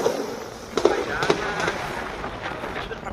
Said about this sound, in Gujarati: દિવાળીના દિવસમાં બમ બમ ફટાકડા ફૂટે.